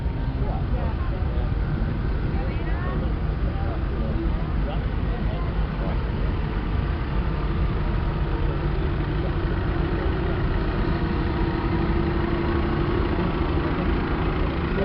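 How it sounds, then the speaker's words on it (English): A vintage grey Ferguson tractor engine at a steam and vintage rally chugs steadily as it drives past, a continuous loud mid-low engine drone lasting the whole stretch, with someone talking over it. "The great old Ferguson going by me now."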